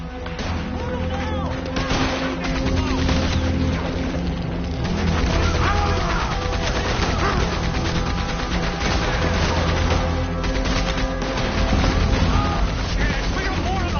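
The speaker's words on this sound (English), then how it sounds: "Get on that Gatling gun, Arthur!" Mounted Gatling gun firing in Red Dead Redemption 2 amid a gunfight, rapid continuous bursts mixed with other gunshots and heavy ambient noise, loud and sustained, with voices shouting over it.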